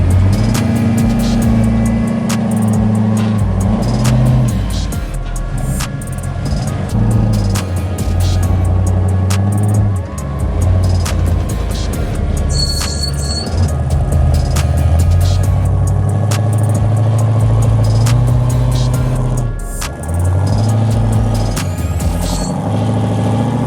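A 4x4 off-road vehicle rock crawling through Boulder Canyon, a loud close engine droning and rumbling steadily with throttle swells and scattered scrapes and knocks, no talk.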